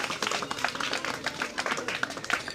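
Applause from an audience at a school prize distribution greets a winner: a dense, steady patter of many hands clapping together, loud and sustained throughout.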